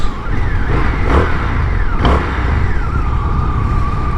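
A Suzuki GSX-S motorcycle at a bike fest revs over a loud, continuous roar of nearby engine and crowd noise, with a rising and falling whine through the revs.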